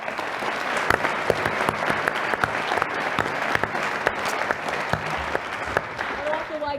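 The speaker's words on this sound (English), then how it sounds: "So just a huge round of applause." Sustained applause from an audience at a business school award event, steady clapping throughout with scattered louder claps, close and continuous, no talking over it.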